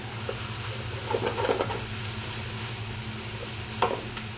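Sausage sizzling in a pan for a Cajun duck cassoulet, a steady close frying hiss with a few soft stirring scrapes and no talk.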